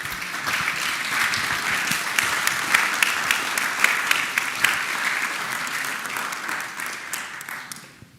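Sustained applause fills the Virginia Senate chamber as senators clap together in a steady, dense wash of hands that holds for several seconds before tapering off at the end.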